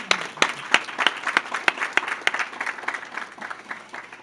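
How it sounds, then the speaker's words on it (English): Audience applause at an adult high school and HSE graduation ceremony: a sustained crowd clapping with sharp individual claps standing out, steady and fairly close throughout. "I think you all should give them a round of applause as well."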